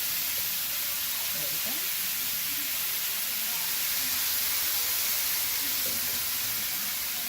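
Philly cheesesteak meat sizzles steadily in a hot pan, a loud continuous hiss filling the whole stretch, with someone speaking briefly over it.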